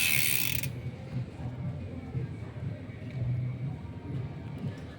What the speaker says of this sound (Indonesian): Kemudian ini suara jangkriknya.